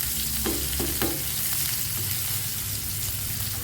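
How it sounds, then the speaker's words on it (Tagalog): Garlic, onion and ginger fry and brown in a pan for chicken adobo, a steady close sizzle with a few soft stirring scrapes near the start and no voices. "I-brown na natin yung ating mga uh, garlic. Yung garlic at saka onion saka ginger."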